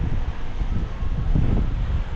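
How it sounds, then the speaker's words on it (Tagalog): Strong wind blowing across a fine-sand beach, a steady loud roar of gusts buffeting the microphone throughout with no pauses. "malakas din ang hangin dito"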